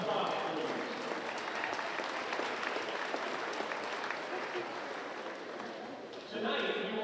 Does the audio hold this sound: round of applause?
yes